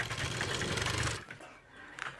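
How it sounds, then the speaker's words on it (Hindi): A sewing machine runs fast and steady while stitching the leg seam of an umbrella palazzo, a dense close whir for about a second before stopping, followed by quieter handling noise. "हमने यहाँ से यहाँ तक पैर की सिलाई लगाते हुए लाना है"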